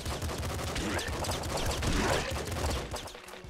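Enemy gunfire in the top-down shooter Nuclear Throne: a dense, continuous barrage of rapid shots and impacts fills the whole stretch, loud and close, layered with other game sounds.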